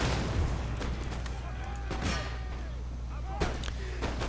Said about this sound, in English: We're going to get our cannon crews back to doing their job.